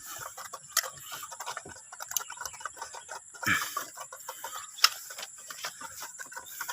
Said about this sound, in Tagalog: hataw sa kain ito yung dalawang Rhode Island natin mga part ay tatlo kasama si Bordagol